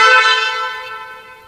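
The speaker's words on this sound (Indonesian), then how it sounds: "klaksonnya menggunakan klakson keong, kencang sekali" Snail horn on a Yamaha NMAX scooter converted to electric power blares once, loud and close, a single sustained honk that fades over about a second and a half.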